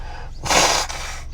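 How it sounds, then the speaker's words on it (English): A person blows their nose into a rag in one short, forceful, close burst of breathy rushing air, with quieter breathing before and after; no talk. "I'm going to use this rag back here and blow my nose."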